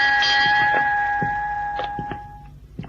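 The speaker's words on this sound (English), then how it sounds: "Who rang those bells?" A ship's bell rings on the bridge of the ship Gascony: a few bright struck strokes whose sustained metallic tone hangs and slowly fades, close and fairly loud.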